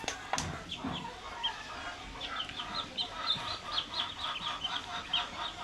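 One-day-old Tiger chicken chicks chirp in rapid, high, thin peeps that repeat steadily, with a faint clatter at the start.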